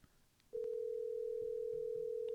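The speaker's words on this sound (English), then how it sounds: "I'm going to give him a call right now." A steady, unbroken telephone tone starts abruptly after a brief moment of faint background noise and holds at an even level to the end, as a call is being placed.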